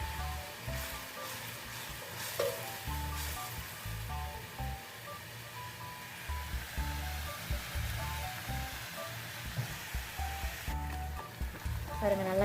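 Potato fry seasoned with salt and turmeric sizzles steadily in a pan while it is stirred, scraping and rustling throughout as a person talks over it.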